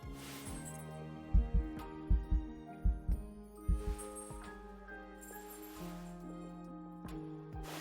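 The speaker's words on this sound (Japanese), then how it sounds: "もう少し寄れば心臓の鼓動が聞こえるはずだ。" A heartbeat thumps in a steady series of close, low double beats, about six pulses in a row, set against a soft sustained musical drone.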